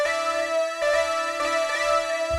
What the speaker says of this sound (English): we have to use the retro synth for this